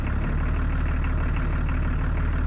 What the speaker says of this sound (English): all we get is that beautiful six-cylinder BMW tail note, which is made a bit louder actually because the exhaust is kind of rotted in half.